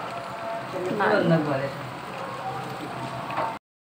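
Taro pieces simmer in a pot on the stove, boiled ahead of making a taro mash with dried fish; a steady close bubbling and gurgling runs throughout, with a busier burst of rolling boil in the middle before the clip cuts off.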